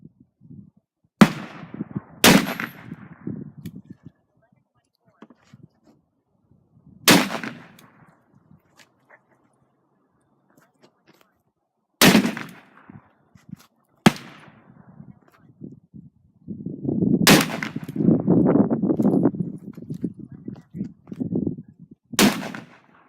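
Five shots from a Smith & Wesson Model 29 .44 Magnum revolver with a 6.5-inch barrel, fired at a gel test range: sharp, loud single cracks spaced seconds apart, with quiet handling noise between them.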